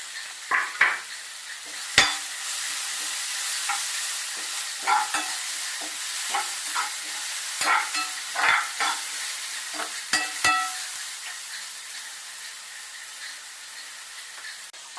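Onions sautéed with carrot and curry leaves in a pan for an egg masala dosa, with a steady close sizzle and repeated scraping, clattering stirs of a spatula throughout.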